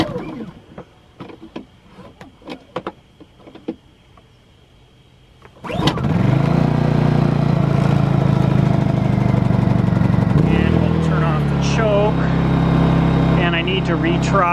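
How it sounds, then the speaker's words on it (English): A new Honda EU2200i inverter generator is started for the first time: after a few seconds of quiet clicks and handling noise it fires up abruptly and settles into a loud, steady running drone, with a brief change in pitch partway through. "Now this is the first time I've started this generator."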